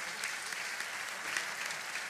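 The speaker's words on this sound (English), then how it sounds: "Another round of applause for those soloists." Audience applause for soloists at a high school holiday concert: dense, sustained clapping from a large crowd in a hall, even and continuous throughout.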